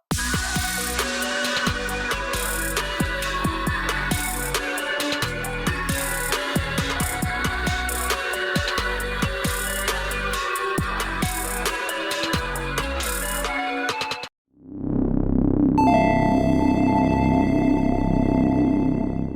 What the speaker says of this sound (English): how I made a wave melody that sounds like this